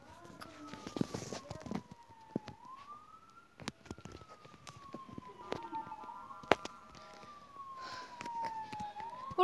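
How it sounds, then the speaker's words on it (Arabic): An ambulance siren wails in long rising and falling tones, fairly distant, with scattered clicks and faint background noise. "الإسعاف. الإسعاف."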